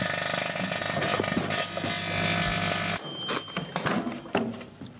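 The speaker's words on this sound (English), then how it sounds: "Lots of plasma balls bounced around for a bit there." A running microwave oven fed with electronics and bulbs throws arcing plasma balls that give off harsh, buzzing, crackling bursts with ratchet-like clicks. A sudden break cuts in midway, and irregular sharp crackles and pops follow, close and fairly loud.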